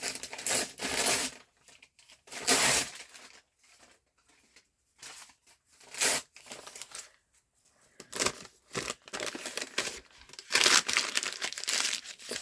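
Paper crumpled by hand for an inexpensive Thanksgiving craft centerpiece, in several bursts of crisp crinkling separated by brief pauses, close and fairly loud with no talking.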